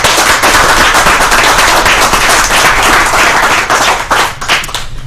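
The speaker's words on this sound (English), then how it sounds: "So Great Lakes Honda really deserves a round of applause from us." Audience applause at an amateur radio club meeting and graduation, a dense, loud burst of many hands clapping that holds steady for several seconds and then tapers slightly at the end.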